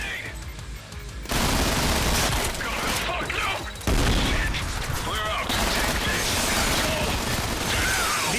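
Rapid bursts of gunfire from the video game Trepang2, dense and loud, with an automatic weapon rattling almost continuously and brief gaps between volleys.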